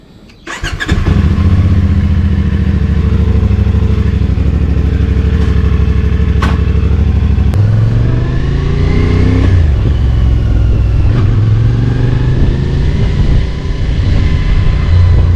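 A CFMoto 450SS motorcycle engine starts and rides steadily, a loud close droning hum with rising and falling revs as the bike accelerates and shifts, no voices.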